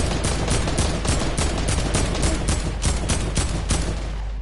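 Rapid automatic fire from a drum gun in a video game, a continuous loud rattle of evenly spaced shots running straight through without pause.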